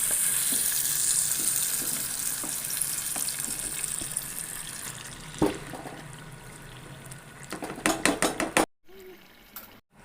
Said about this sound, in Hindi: बटर हमारा मेल्ट हो गया है। अब मैं इसके अंदर चिकन डाल दूंगी।